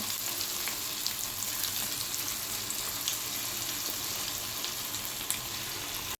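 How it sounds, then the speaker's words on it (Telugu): Pieces of egg manchurian batter deep frying in hot oil in a pan give a loud, dense, even sizzle and bubbling that holds steady throughout, then cuts off abruptly at the end. "బాణీ అంతా ఇలా వేసుకొని బాగా ఫ్రై చేసుకోవాలండి"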